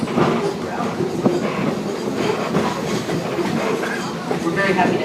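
Strasburg Railroad passenger train rolling slowly on its tracks, a steady rumbling clatter of wheels and car noise heard from onboard, continuous and moderately loud.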